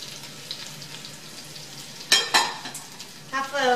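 Mushrooms and minced garlic dropped into melted butter in a pan over medium-high heat, a quiet sizzle that breaks into louder bursts of crackling and stirring near the end.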